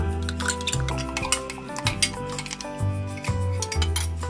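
Ingredients for Malaysian butter fried chicken are stirred in a bowl, with a utensil clinking and scraping against the sides in a steady, close run of small knocks over a continuous background sound.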